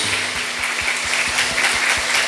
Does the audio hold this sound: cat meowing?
no